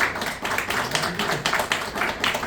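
An audience at a book presentation applauds an author, a steady, fairly soft wash of many hands clapping together, slightly distant.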